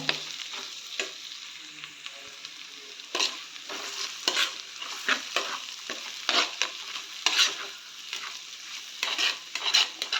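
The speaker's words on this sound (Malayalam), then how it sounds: "ഇത്രയും ആഡ് ചെയ്യുന്നതിന് ശേഷം നന്നായിട്ട് ഇളക്കി യോജിപ്പിക്കാം." Clam meat and potato fry is stirred in a hot pan at home, a spoon scraping and tossing in irregular bursts over a soft continuous sizzle, close and fairly quiet, with no talking.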